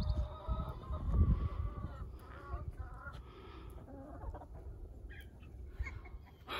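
A free-range backyard chicken flock clucks softly and intermittently, with scattered short calls over a quiet outdoor background.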